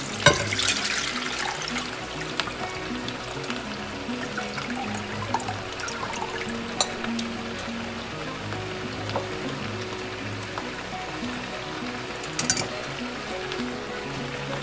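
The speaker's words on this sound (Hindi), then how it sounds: "इसमें पानी निकाल ले रही हूँ।" Water pours and splashes continuously as it is drained from a pan of boiled paneer, a steady rushing trickle with occasional brighter drips.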